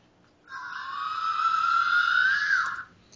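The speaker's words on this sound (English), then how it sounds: "With the David Lee Roth scream." A David Lee Roth style scream sound effect played on a sports recap show, one sustained high shrieking wail of about two and a half seconds that rises slightly and cuts off, loud against a quiet background.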